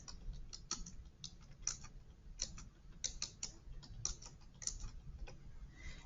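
Light plastic clicks from calculator keys being pressed while entering numbers, quick irregular taps close by, quiet, with no talking.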